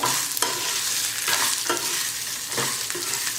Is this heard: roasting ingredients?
yes